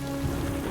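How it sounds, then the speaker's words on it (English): Steady, dense rain falls on a crumbling cliff where stranded people shelter, a loud continuous hiss with no breaks and no voices. "But the rain isn't stopping."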